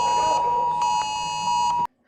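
A loud, steady electronic emergency alert alarm tone from a phone at a fixed pitch, pulsing slightly, sounding continuously before cutting off abruptly into silence.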